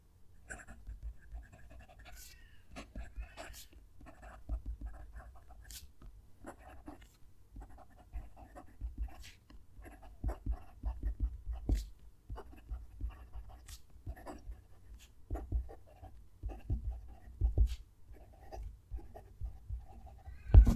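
Leonardo Momento Zero Grande fountain pen with a medium nib writing on paper, a soft, steady scratching of nib strokes with frequent small taps and pauses, close and quiet, no talking.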